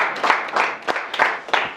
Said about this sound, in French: on va applaudir très très fort pour nos amis qui sont sur Internet